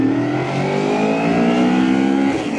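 Taro GP1 400cc sport motorcycle engine revving under throttle, a smooth, loud, steady rising drone held close for nearly three seconds before easing off at the end.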